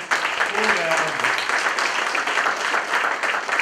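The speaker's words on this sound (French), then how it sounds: "Marilyn, on va te donner une belle main d'applaudissement" Audience applause at a speaker showcase for a volunteer, a steady, dense wash of clapping throughout, with a voice speaking briefly over it near the start.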